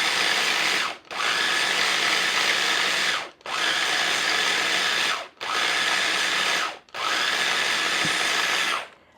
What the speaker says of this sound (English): It's going to make a noise, but we've got to puree this until it's smooth.